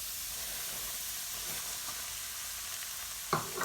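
Semolina meets hot ghee with a brief sizzle that rises near the end over a steady frying hiss, close and moderately loud.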